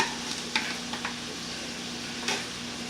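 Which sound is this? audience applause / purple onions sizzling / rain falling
purple onions sizzling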